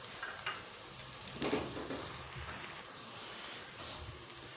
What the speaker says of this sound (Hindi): खड़े मसाले शामिल करते हैं ताकि ये भी अच्छी तरह से फ्राई हो जाएं।